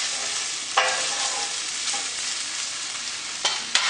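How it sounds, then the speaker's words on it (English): Ingredients for a spinach noodle dish with potatoes are stirred together in a rice cooker, giving a soft steady hissing bed with a few sharp clicks of the utensil against the pot. "And mixing it all together."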